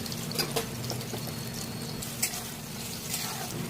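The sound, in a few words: roasting peanuts and coconut in a pan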